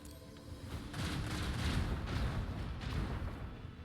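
A starship's portside cannon battery fires in the video game Rogue Trader, a rolling series of deep booms and rumbling blasts sitting fairly low in level, with no voices.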